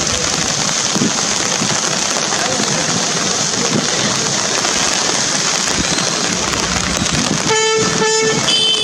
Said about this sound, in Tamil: கொடைக்கானல் மலைப்பகுதியில் சுமார் 1 மணி நேரத்திற்கு மேலாக காற்றுடன் கூடிய மிதமான மழை பெய்தது